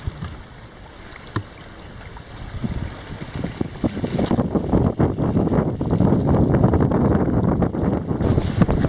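A sailboat under sail off Anglesey, with wind buffeting the microphone and water rushing and slapping against the hull, growing louder and busier over time.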